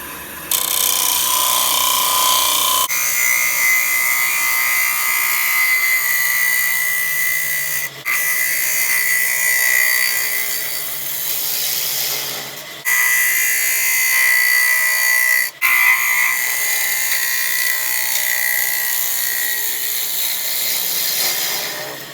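A wood lathe spins an epoxy-filled bowl while gouges cut the inside, a sustained loud whir with a high ringing tone and scraping texture, broken by brief pauses and restarts.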